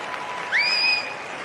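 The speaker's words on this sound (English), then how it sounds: "give a round of applause" An audience applauds as comedian Jimmy Dore is welcomed, a brief steady wash of clapping with a sharp whistle rising above it partway through.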